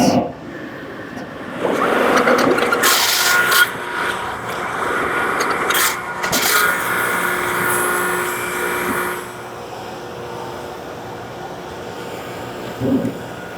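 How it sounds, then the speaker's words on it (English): A slightly old thickness planer takes a pass on a wood block, cut down toward 3 9/16 inch for a Kubb set: a loud rising machine whine and cutting roar, then a fading run-down, close and alone. "So I've set the planer to 3 15/16, and I'm going to work my way towards that 3 9/16."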